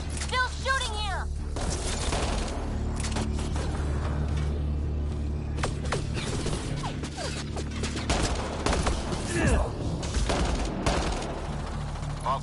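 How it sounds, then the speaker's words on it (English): Sustained rapid gunfire from a Mass Effect Andromeda firefight, dense bursts and sharp cracks running continuously at high level, with speech and game sounds layered throughout. "Still shooting here!"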